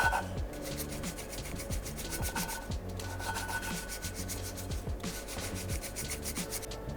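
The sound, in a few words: hand grinding Renault 5 GT Turbo engine valves with paste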